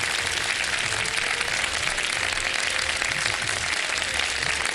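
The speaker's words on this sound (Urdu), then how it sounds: "آئیے جناب, بھرپور تالیوں میں." A studio audience on a live iftar TV programme claps loudly and continuously as guests are welcomed, a thick, even wash of applause with no pauses.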